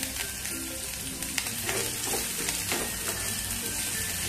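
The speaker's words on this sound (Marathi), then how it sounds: "ही फोडणी चांगली आपण परतवून घ्यायची आधी." Cumin seeds, green chili and grated ginger sizzle in hot ghee as a tempering for gopalkala, a steady close crackling fry with small pops and no voices.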